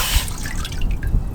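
Water runs steadily into a container fitted with a float lever valve, a continuous splashing and dripping stream with a few louder plops, near and moderately loud with no talk.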